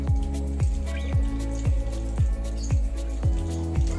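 Water trickles onto a bougainvillea cutting planted in a polybag of growing medium, making a steady rhythm of wet drips and splashes about twice per second, close by and fairly loud, with no voices.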